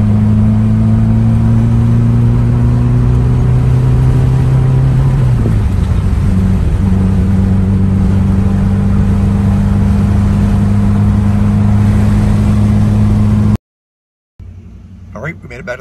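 A Yugo car cruises on the highway with a steady, loud low engine drone and constant road noise, holding a nearly even pitch with a brief dip partway through, then cutting off abruptly near the end.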